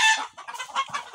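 Fayoumi hens cluck nearby in a quick burst of short, bright, overlapping calls.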